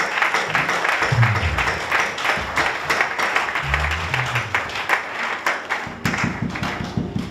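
A church congregation applauding, with close rapid clapping and tapping that runs throughout and grows more rhythmic toward the end, with low voices underneath.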